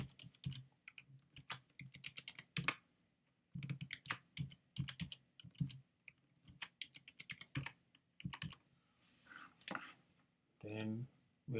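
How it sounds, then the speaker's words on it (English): Someone types a passphrase on a computer keyboard in quick, irregular bursts of close, soft clicks, with brief pauses between runs of keystrokes. "We're going to type in a passphrase."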